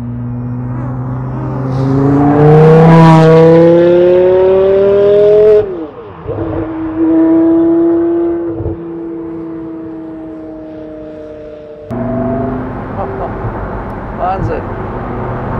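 A 2006 Porsche Carrera GT with a racing exhaust revs hard nearby, its engine climbing to a shrill wail, dropping, then holding a steady high idle and blipping again.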